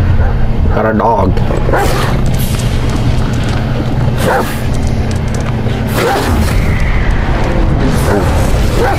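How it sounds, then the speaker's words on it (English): A dog snarls and growls loudly in the game Black Myth Wukong, with repeated harsh bursts over a constant rumbling game soundtrack. "Got a dog."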